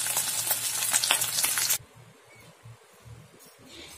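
Paneer cubes sizzle and crackle in hot oil in a pan for under two seconds, a bright frying hiss that cuts off abruptly into near silence with faint handling sounds.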